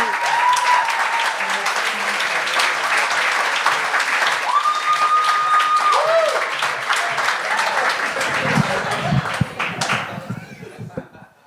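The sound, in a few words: audience applause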